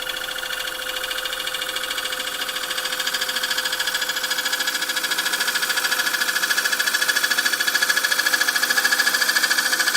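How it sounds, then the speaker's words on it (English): Wood lathe spinning a bowl blank gives a steady tonal hum while a long grind gouge cuts with a continuous fine, rhythmic scraping. The sound slowly grows louder throughout. "Leaning into the lathe as I cut."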